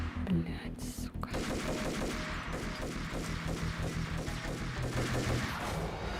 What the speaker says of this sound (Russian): Да, здесь такая неудобная стрельба.